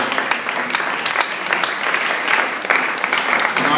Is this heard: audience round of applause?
yes